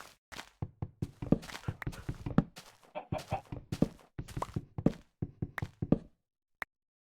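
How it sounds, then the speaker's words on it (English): A chicken walks in a blocky sandbox video game, its footsteps sounding as a rapid series of close, dull thuds and taps that stop abruptly, with one last isolated tap. "Okay, I heard footsteps. I think it's that chicken."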